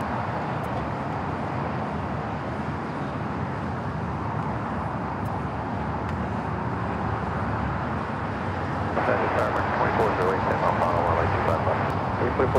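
An airliner takes off from runway 25 Right at Los Angeles International Airport, a steady, loud broadband jet roar that swells and brightens toward the end.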